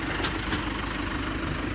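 A Mahindra Arjun 605 tractor engine idles with a steady, loud, low rumble that stays even throughout, with no talking.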